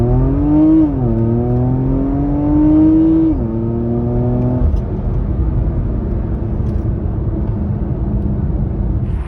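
A Porsche Macan GTS with a COBB Stage 1 tune kicks down and accelerates hard, the engine note rising through two gear-shift dips before settling into a rumbling cruise, loud and close.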